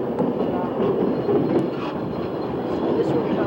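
A train rumbles in a rail yard with a steady, loud, close low roar and faint clacking throughout, and no clear speech over it.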